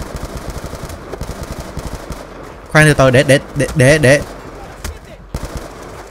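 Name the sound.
gunfire from testing a gun in video game Call of Duty: Black Ops 2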